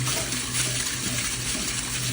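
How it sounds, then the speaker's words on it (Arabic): A little water poured over fish being prepared for tanour baking, a steady splashing gush close by, with no voices. "شويه ماء فيها كذا."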